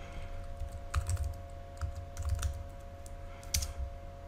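A short burst of typing on a computer keyboard, a few quick clusters of keystrokes spaced by brief pauses, close and fairly quiet over a steady electrical hum, with no voices.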